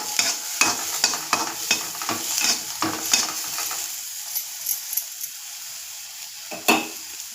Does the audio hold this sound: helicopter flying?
no